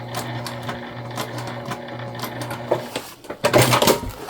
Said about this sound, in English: right back to where we left off on the other side and back stitch.